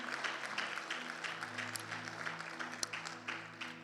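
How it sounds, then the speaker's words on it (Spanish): Church congregation at a prayer service claps in praise, steady moderate applause under a sustained low organ-like tone, fairly faint throughout. "Aplauso al Señor."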